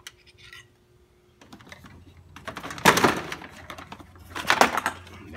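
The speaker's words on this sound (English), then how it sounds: "And there's four little plastic pins to pry out." Brittle, aged plastic pins are pried out of the front kidney intake of a BMW E46, making close, sharp snaps and clicks in two distinct bursts amid light handling noise.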